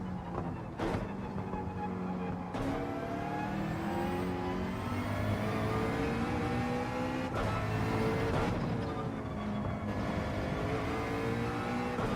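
McLaren race car engine in Gran Turismo 7, a continuous high-revving roar climbing through the gears with several sharp shift breaks, loud and steady from start to finish with no talking.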